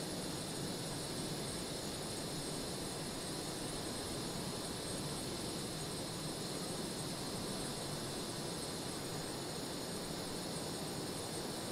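A steady, loud jet engine roar from an F-18 Hornet fighter in Microsoft Flight Simulator, holding a constant broadband rush with a high whine throughout and no voices.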